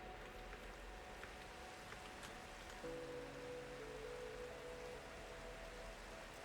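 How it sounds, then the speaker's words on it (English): Rain falls in the video game Minecraft as a steady, faint hiss that carries on evenly throughout, with a soft sustained tone joining partway through. "It's raining again."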